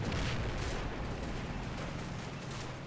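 Mortar shells landing on a Normandy battlefield in a World War II armored combat video game, a dense rumble of distant explosions and crackling blasts rolling together at moderate loudness, no voices.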